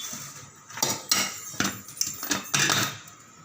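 Cake pan clattering as an eggless Black Forest cake is flipped out, several sharp metallic knocks and scrapes in quick succession, close and fairly loud, with no talking.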